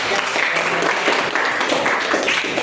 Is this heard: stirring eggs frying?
no